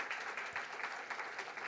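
Audience applause at a Black History symposium honouring an accomplished Black Canadian woman, soft and steady clapping from a modest crowd, fairly distant, alone without talk.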